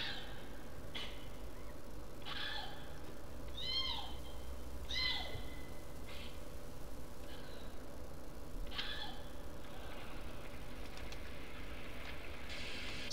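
A cat gives several short meows spread across the stretch, fairly faint against a steady background hum and ticking.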